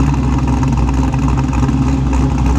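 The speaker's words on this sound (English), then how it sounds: "And listen to that cam chop." Chevrolet Monte Carlo SS with a lopey cam idles loudly and close, a deep rumbling engine note with an uneven chop running steadily throughout.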